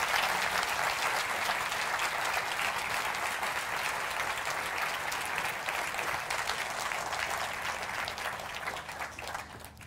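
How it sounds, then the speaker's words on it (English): An audience at the FameLab 2014 international science-communication final applauds a speaker, sustained dense clapping filling the hall for about ten seconds and slowly tapering off toward the end, with no talking. "be applauding for Yana Bagfa"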